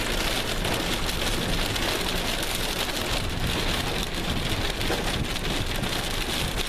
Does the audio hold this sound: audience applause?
no